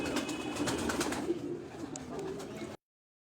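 Pigeon held in a person's hand giving soft, low cooing, close and steady for a few seconds before it cuts off abruptly.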